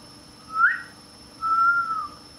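A person whistles in the open like a street catcall: a short rising whistle followed by a longer, steady sustained whistle, clear and fairly close, with no talk over it.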